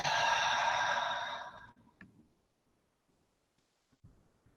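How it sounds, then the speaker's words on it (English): A slow deep exhale during a guided breathwork exercise with hands on the diaphragm, a long breathy sigh that fades out, followed by quiet with a couple of faint soft breaths. "placing your hands on the diaphragm and taking a few deep breaths"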